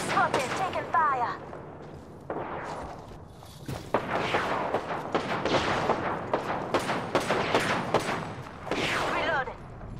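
Bursts of gunfire in the video game Apex Legends, loud repeated shots in quick clusters mixed with game effects and a player talking.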